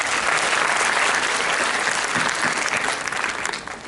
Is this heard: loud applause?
yes